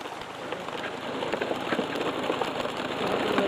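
Steady rain falls on the bush in winter, a dense, even hiss of drops pattering on surfaces that swells slightly louder toward the end, with no voices.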